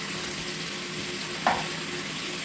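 Pork belly frying in its own rendered fat for a traditional wedding recipe, a continuous soft sizzle with one brief louder crackle midway.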